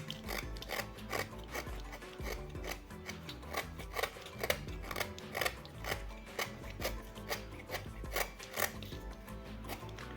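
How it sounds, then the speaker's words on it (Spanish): A blade scraping pine bark in steady, repeated raspy strokes, close up and fairly quiet, with no voices. "Y vamos raspando despacito y prácticamente se va haciendo solo."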